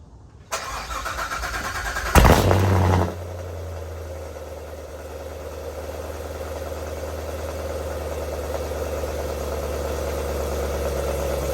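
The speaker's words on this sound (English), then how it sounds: "Okay, all right, I'm gonna start the car up." A car's engine cold-starts with a short, loud crank that catches and revs briefly, then drops into a steady, droning idle that holds to the end, close by with no talking.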